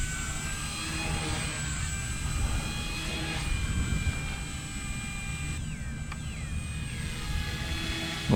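A Blade 150S RC helicopter flies nearby, its high-pitched motor and rotor whine holding steady tones that shift in pitch as it maneuvers through flips and rolls outdoors in light wind.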